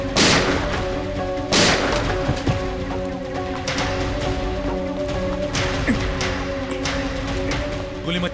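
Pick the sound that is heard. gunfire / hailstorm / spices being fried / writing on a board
gunfire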